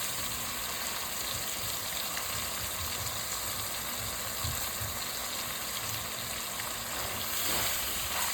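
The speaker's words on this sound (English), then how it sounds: "Let's give this a nice stir together" Peppers, onions and plum tomatoes sizzle in a pan while being stirred, a faint steady frying hiss with soft scraping movements and no talking.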